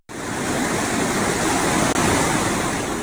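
Floodwater from an overflowing river rushes past in a dense, steady roar, loud and close, with no voices over it and one brief dropout near the middle.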